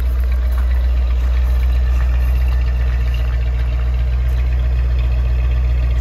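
A 1962 Ford Thunderbird idles with a smooth, steady low hum and an even mechanical murmur, constant throughout, with no voices.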